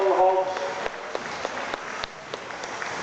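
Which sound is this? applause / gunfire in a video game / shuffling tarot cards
applause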